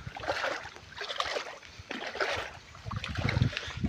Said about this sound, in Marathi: ही अशी नदी आहे इकडून